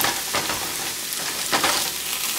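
Onion and chorizo fry loudly in a pan with a steady, close broadband sizzle, broken by a few scraping stirs from a utensil.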